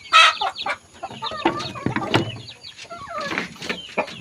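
Asil Burmese broodhen and her chicks clucking and peeping in a series of short, close calls, with a sharper loud call near the start and busy chirping throughout.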